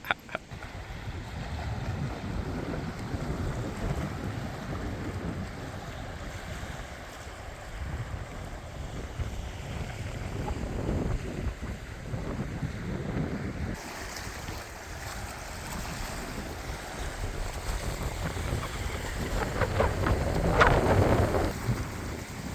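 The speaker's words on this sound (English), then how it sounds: "The wind just keeps picking up." Strong wind gusts roar steadily over a lakeside campsite on Lake Vänern, Sweden, buffeting a tent, with a continuous close rushing that swells louder toward the end.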